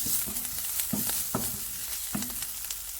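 Curry leaves crackle and sizzle in hot oil in a frying pan while green gram stir fry is made, with a steady close hiss and several sharp pops and stirring scrapes.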